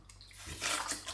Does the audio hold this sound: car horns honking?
no